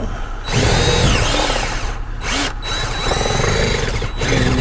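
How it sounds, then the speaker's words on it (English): A power drill whirs close up, boring a 5/16-inch hole, its pitch rising and dipping as it bites in, with short pauses between bursts of drilling. "I'm gonna drill a hole."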